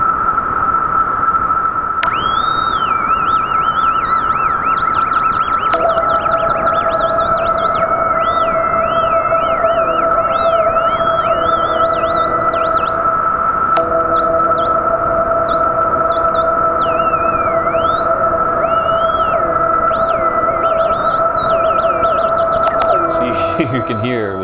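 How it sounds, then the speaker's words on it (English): A synthesizer plays sustained polyphonic tones, with individual notes sliding and wavering in pitch through polyphonic aftertouch while others hold steady, a continuous electronic patch layered with wobbling high voices over about twenty-four seconds, no talking. "you can hear with the polyphonic aftertouch that I can, just using this stupid sound, I can modify the pitch of each note, the pitch bend on each note individually"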